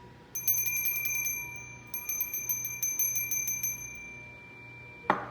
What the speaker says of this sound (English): Every time a bell rings